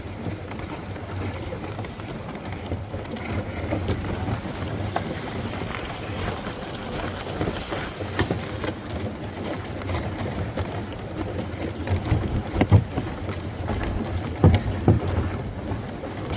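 A horse-drawn sleigh runs over untouched snow, giving a steady, continuous rushing and hissing with wind buffeting the microphone and a few louder knocks near the end, and no talking.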